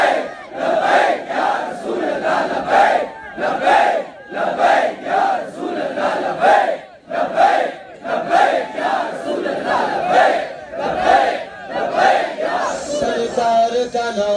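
Large crowd at a Karachi sit-in protest in Baldia Town chanting the Labbaik slogan in a loud, rhythmic call-and-response, with bursts roughly every second repeating throughout, close and dense.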